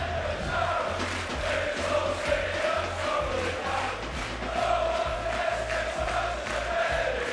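A large football crowd of over 2,000 Wrexham away fans at Meadow Lane on a weeknight, a loud continuous roar with rhythmic chanting and rising and falling sung swells across the whole stretch.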